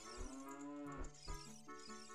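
A cow in the video game Zelda Ocarina of Time gives one long, loud, close moo. The low, drawn-out call sits over a rich synthesized game tone.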